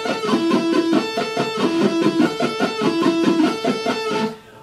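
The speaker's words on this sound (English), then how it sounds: "you're going to be picking each note of the arpeggio 3 times" Electric guitar playing a sweep-picked arpeggio with each note picked three times, a fast steady run of rapid repeated notes with mild distortion, played alone and stopping abruptly at the end.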